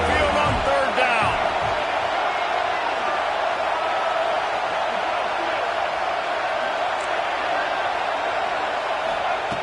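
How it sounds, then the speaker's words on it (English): Alabama Crimson Tide home crowd roaring at Saban Field during a third-down play in a college football game, a dense, sustained wall of stadium noise from a large crowd, with a few sharp thuds near the start. "The Tide crowd rolling noise down onto Saban Field on 3rd down."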